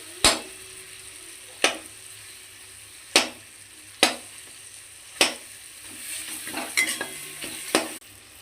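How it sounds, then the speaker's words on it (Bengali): Tomatoes and ginger frying in a pan are stirred with a spatula, giving sharp scraping knocks every second or so over a low steady sizzle, close and clear without talk. "এগুলো গলে না আসা পর্যন্ত আমি এগুলো নাড়তে থাকবো"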